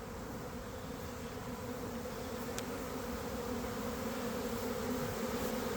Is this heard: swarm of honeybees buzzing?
yes